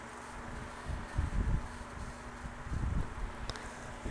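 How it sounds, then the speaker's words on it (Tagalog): Gentle wind gusts rumble against the microphone in a few soft surges, with a faint steady hum underneath and no speech. "Ang ganda ng umaga. Mahangin."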